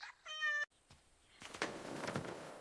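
A cat meows once, close and clear, followed by a short pause, faint knocks and then louder rustling and handling noise.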